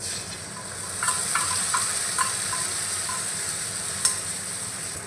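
Spice paste hitting browned fried onions in a hot pan gives a steady, close sizzle with a few scraping stirs, no voices.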